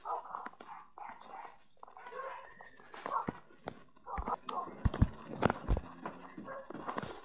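Dogs in the video game Minecraft give quiet, scattered barks and yelps amid soft game clatter, with a person talking quietly throughout.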